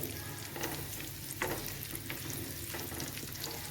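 Raisins and fennel seeds roast lightly in a pan with a quiet, continuous sizzle and soft scraping stirs, heard up close without any talking.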